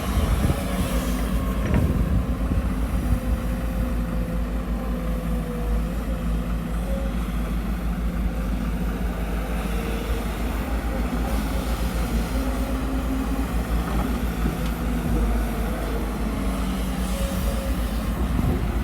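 The heavy diesel engine of a Komatsu PC200 excavator drones loudly and steadily while digging hard soil, its low rumble holding at high revs throughout.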